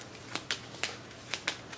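Cards from the Marvel United board game are shuffled at a table, giving several quiet, quick snapping riffles over a soft background hiss.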